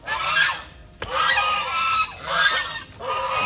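Breeder geese honk loudly and close by in a yard, in repeated overlapping bursts with only brief pauses between calls.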